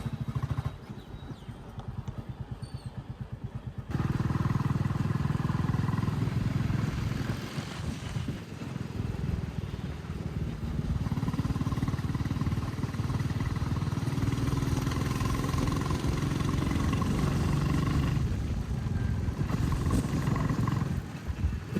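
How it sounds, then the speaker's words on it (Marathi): A motorcycle engine drones loudly and continuously while riding, with rumbling wind noise and surrounding traffic sounds rising and falling. "आता मी बाईक राईडवर आहे."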